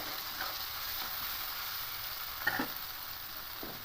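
Onions and chopped green chillies fry in a pan for a dal fry, giving a soft, steady sizzle with a few light scrapes and taps of stirring; no talking.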